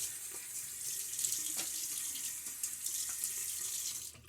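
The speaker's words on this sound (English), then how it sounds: "let me get my face wet" A bathroom tap runs steadily into a sink, close and fairly quiet, while water is splashed on a face before a shave.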